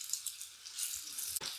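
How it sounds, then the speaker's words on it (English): Chicken pieces for sesame chicken sizzle in a hot pan with a faint, steady crackling hiss, heard close with no talking. "Should start to sizzle."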